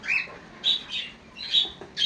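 Several lovebirds give sharp, high chirps and squawks in irregular bursts, close by, with no voices.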